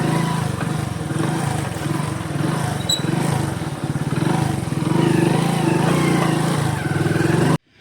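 Motorcycle engine running steadily at half clutch, a loud close continuous mid-pitched drone with a slight rhythmic pulse and mild rises in load, no talking.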